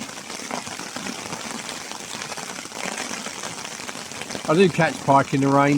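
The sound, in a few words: rain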